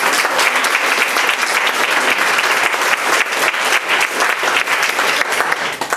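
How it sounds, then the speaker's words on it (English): A dense, sustained round of audience applause at a local library tribute, many hands clapping steadily and loudly with no break for the full length. "Let's give her a round of applause"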